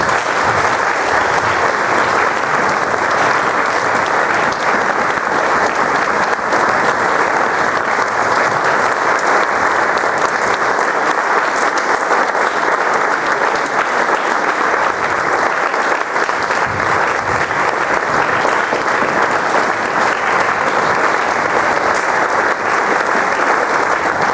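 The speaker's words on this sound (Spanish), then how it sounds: "Damos un aplauso al Señor, hermanos" Church congregation applauding the Lord during a Spanish-language service, loud sustained clapping from many people that carries on evenly for over twenty seconds without speech.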